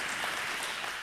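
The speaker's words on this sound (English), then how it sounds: "Give Anna a clap." Audience clapping for a young woman at a Sunday morning church service, a steady broadband patter of many hands sustained evenly throughout without a break.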